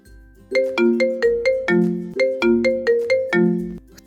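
A bright electronic ringtone plays a repeating melodic pattern of chiming notes, loud and clear, cycling twice with no voices.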